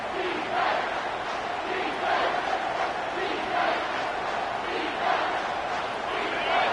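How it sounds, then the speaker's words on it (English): Home crowd cheering in the College Football 25 video game as the defense faces third down, a sustained roaring wash of stadium noise with swelling chant-like surges and no clear gaps. "Here comes this home crowd as the defense tries to get off the field on third down."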